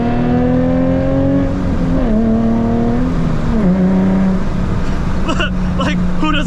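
A Nissan 350Z with a manual gearbox revs hard from inside the cabin, its engine tone climbing and dropping through several gear shifts, loud and continuous, with a voice talking over it near the end.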